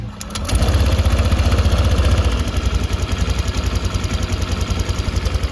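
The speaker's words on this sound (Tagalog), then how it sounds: "patunugin ulit natin yung engine natin start natin mas malapit dito pakinggan natin yung lagitik" A motorcycle engine idles steadily up close after a brief start, with a fast, light mechanical ticking from a worn tensioner running through the rumble.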